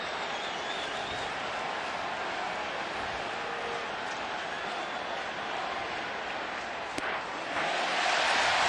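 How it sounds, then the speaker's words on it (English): Baseball crowd at a Yankees versus Red Sox game cheering with a steady, dense roar that holds for the whole stretch, rising slightly near the end. "So the crowd getting into it."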